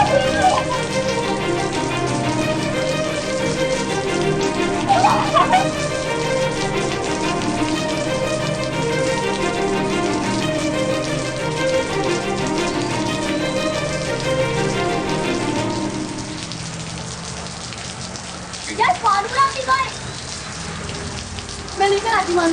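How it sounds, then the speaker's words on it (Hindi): Steady, dense rain falling, a constant hiss of drops on surfaces that holds loud and even, thinning out near the end with a few scattered louder spatters. "बारिश"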